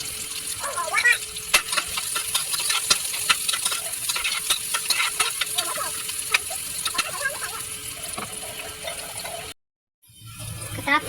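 White onion sautéing in a pan, with steady sizzling and repeated scraping stirs through most of the clip, joined by a voice talking over it before a brief cutout near the end.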